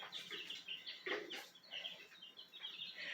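Baby chicks peep softly inside a clean brooder indoors, with quick high chirps repeating in scattered bursts at low volume and no one speaking.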